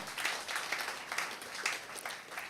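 A seminar audience in Mombasa claps as Harbi leaves the stage, a fairly faint, distant wash of steady applause with soft rhythmic swells.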